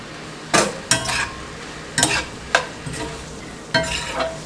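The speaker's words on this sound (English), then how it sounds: "Add your pasta to your pan." Drained pasta is tossed into a pan with onions, giving bursts of stirring scrapes and clinks of a utensil against the pan over a low, steady sizzle, about five distinct strokes close by.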